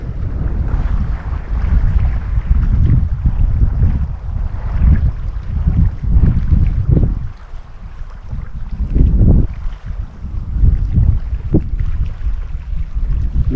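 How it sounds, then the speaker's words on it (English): Wind gusts outdoors on a chilly lakeside spring day in Algonquin Park, rumbling and buffeting close to the microphone in surging waves that ease briefly midway, with no talking. "Now wind's picking up and it's a little bit chilly."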